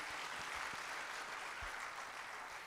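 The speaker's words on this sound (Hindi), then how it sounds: "अगर अच्छी बात है, ताली बजाकर अनुमोदन कीजिए।" An audience at a Raipur Chaturmas religious discourse claps together in a steady, even wash of applause that holds for the whole stretch, soft and somewhat distant.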